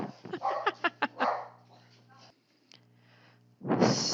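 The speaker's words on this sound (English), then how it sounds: "the dog's crazy" A house dog barks sharply several times in quick succession, close and loud, then goes quiet before a burst of noise; a person talks around the barks.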